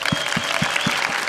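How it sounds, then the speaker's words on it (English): Esports crowd at a World of Tanks Grand Finals event applauding the Korean team, a brief spell of steady clapping with a few louder individual claps standing out near the front. "Let's give a big round of applause to the Koreans,"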